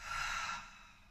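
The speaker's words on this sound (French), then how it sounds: "On va à chaque fois inspirer avec le nez et on va souffler par la bouche." A single breath during a Pilates breathing exercise, with air drawn in through the nose and blown out through the mouth as a soft, close, airy hiss that fades after about half a second.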